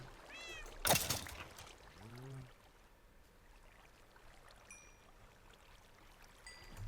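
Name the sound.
cat meowing in Minecraft video game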